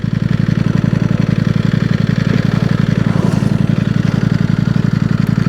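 Ducati V4S motorcycle engine running close and loud, a dense rapid throbbing pulse held steady throughout with a rough mechanical rasp on top.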